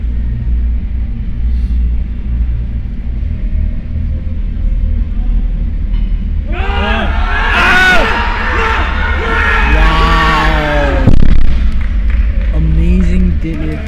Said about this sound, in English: A round of applause from his supporters.